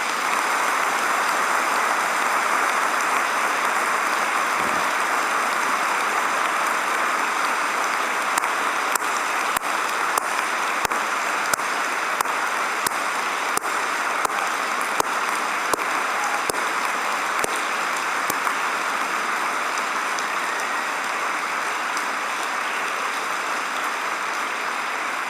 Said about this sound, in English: Can we give them a really serious round of applause?